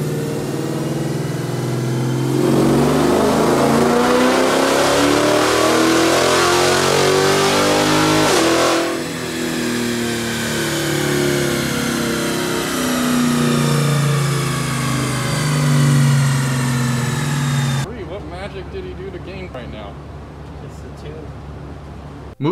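A cammed Dodge Charger R/T runs on a dyno, its engine rising in a loud, climbing rev toward about 6,200 RPM, then easing off and falling away before the sound cuts short near the end.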